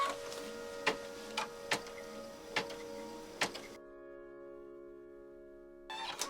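An embroidery machine stitches fabric held down with Floriani Perfection tape while quilting a diamond block, with a steady mechanical hum and regular sharp needle thumps about once a second, then a quieter hum before stitching resumes.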